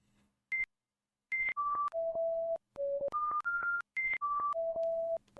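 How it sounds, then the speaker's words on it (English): Electronic video game beeps in a rapid melodic run of sustained tones at shifting pitches, clean and close, after a short pause following one brief opening beep, with no talk. "let's listen to some beeps and jams"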